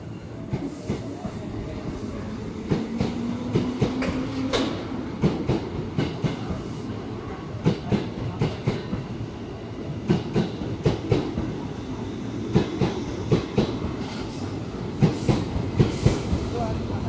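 At night in a busy Jakarta station, a JR 205 electric train rolls along the platform with a steady rumble and a rhythmic clickety-clack of wheels over rail joints that quickens toward the end, heard up close and continuous.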